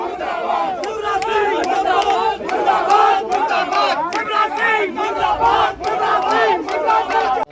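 A large crowd at a Congress Scheduled Caste front protest against the government, where an effigy is burned, chants slogans in loud, rhythmic unison, with many voices rising and falling together in repeated bursts.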